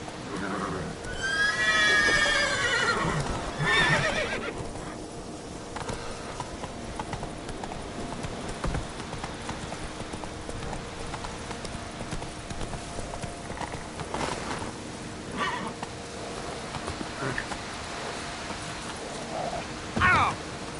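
Roach the horse galloping in Witcher 3, quick rhythmic hoofbeats with a whinny near the start, continuing under ambient game sound with occasional louder bursts.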